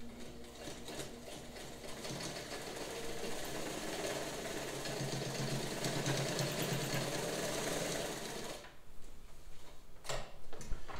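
White 164 all-metal sewing machine stitching heavy fabric at a long stitch length, a steady fast ticking hum that runs evenly for several seconds, then stops, leaving a few faint clicks.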